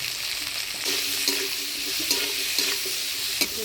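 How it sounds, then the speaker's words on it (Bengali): Potato and brinjal pieces with turmeric and salt are stirred in a hot pan, giving a continuous sizzle with a few light scrapes of the spatula. "হলুদ লবণ দিয়ে আলু বেগুনটা নাড়াচাড়া করে নিলাম"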